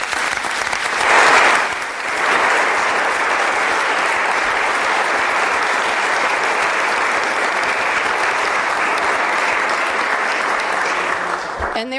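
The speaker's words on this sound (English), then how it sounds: "So can we have a round of applause for our families?" An audience at a state bill-signing on ghost guns and firearm storage gives sustained, even applause for the families, with a brief swell near the start and a murmuring voice or two beneath.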